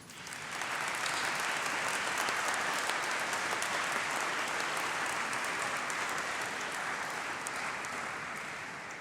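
A large audience at a university degree ceremony applauds, the clapping swelling quickly into a sustained, dense roar of hands before gently tapering toward the end.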